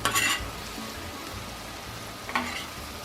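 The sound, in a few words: shrimp sizzling as they are tossed in garlic sauce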